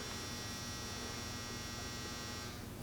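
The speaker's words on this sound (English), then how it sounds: "Fucking dryer." A running clothes dryer gives a loud, steady electrical hum and buzz that holds unchanged for several seconds, with no voices.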